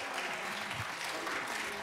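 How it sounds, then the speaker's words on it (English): Applause from an audience at a family music night, soft and fairly distant, a steady patter of clapping that holds evenly throughout. "Let's give them a round of applause, everybody."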